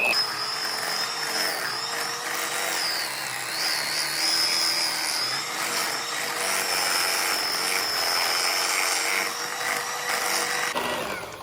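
Whipped shea butter being stirred in a bowl: a steady, close mechanical whine with a wavering high pitch drones without a break for about eleven seconds, then stops abruptly.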